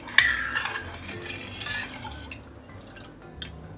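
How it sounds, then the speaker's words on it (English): Sugar syrup with lime being stirred in a pan for Kala Jamun, heard as soft, irregular scraping and liquid swishing with a few light clinks, fairly quiet throughout. "So by continuously stirring it, we'll make a sugar syrup"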